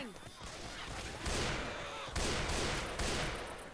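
Gunfire in the zombie shooter Left 4 Dead 2, dense bursts of rapid shots and explosive blasts in quick succession, loud and close, with game sounds throughout.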